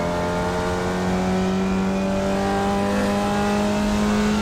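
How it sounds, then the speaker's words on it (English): Formula Vee race car sliding sideways through a corner in iRacing, its engine holding a loud, steady buzzing drone with a slight rise in pitch, close and continuous with no talking. "A little bit of sideways action, a little Tokyo drift."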